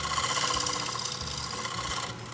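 Sandpaper rubs back and forth on wood for final finishing, a close, dry, rasping scratch in quick repeated strokes that holds fairly even throughout.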